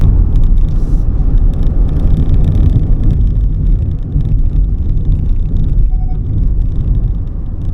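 An electric car drives down a rough, unlined county road, giving a steady loud rumble of tyre and road noise with wind buffeting and occasional rattles, continuous throughout.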